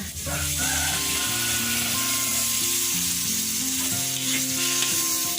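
Galangal and ginger sauté with lemongrass and bay leaves in a pan with a splash of coconut milk, giving a loud, continuous close sizzle under steady background music.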